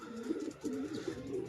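Racing pigeons coo softly in a low, rolling rhythm, repeating several times close by over a steady background hum.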